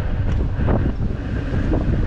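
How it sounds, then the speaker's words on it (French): A gust of wind buffets the microphone of a cyclist riding Uber Eats deliveries through city streets, a steady loud rumbling roar that fills the whole moment with no talking. "je me suis pris une rafale de vent là"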